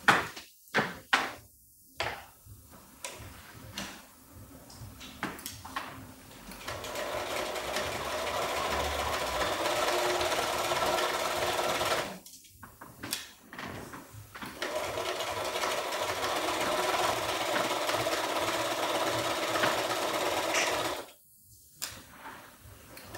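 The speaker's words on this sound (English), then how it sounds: "So now we're back to our regular settings and we're just gonna sew normally." A sewing machine runs in long steady bursts while stitching a modern patchwork pillow on regular settings, with a few knocks and handling sounds between runs and short pauses where the motor stops.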